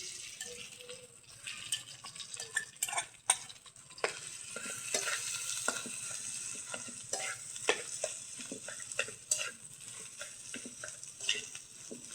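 Potatoes with onions and black cumin sizzle in a pan, a steady soft frying hiss broken by frequent scraping and clattering stirs, close up with no speech.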